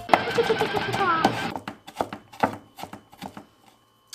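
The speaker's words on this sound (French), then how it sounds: "Pareil, hein, je coupe grossièrement." Knife roughly chopping vegetables on a board for a vegetarian Japanese fried rice, a run of sharp, close taps in quick succession, starting under a woman's speech and continuing alone.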